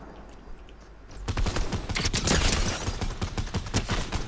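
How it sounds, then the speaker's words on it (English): Rapid bursts of gunfire in the video game Fortnite, coming from behind the player, a dense rattling volley that starts suddenly and continues steadily at moderate loudness. "There are now shots behind me"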